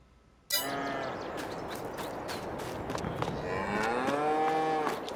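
Cattle mooing in the farming game Farming Simulator 22, several drawn-out calls rising and falling, loud and close, one after another over a steady farmyard background.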